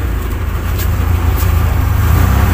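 A replica 1944 Jeep Willys with a Jimny steering wheel being driven, its engine giving a steady loud low rumble with road and wind noise throughout, no talking heard.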